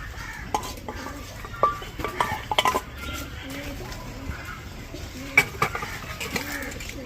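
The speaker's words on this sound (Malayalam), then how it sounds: "നന്നായി ഒന്ന് ഇളക്കി ഞാൻ കൊടുത്തിട്ടുണ്ട്." A spoon stirs a pot of curry with boiled carrot and potato, giving soft scraping and occasional clinks of metal against the pot, quiet and close, alone without talk.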